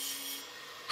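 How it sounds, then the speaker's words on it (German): Hand-held tools file and sand the body of a handmade silver teapot, a steady soft rasping scrape with one louder, harsher stroke at the end. "Stundenlanges Schleifen und Feilen von Hand im 21. Jahrhundert."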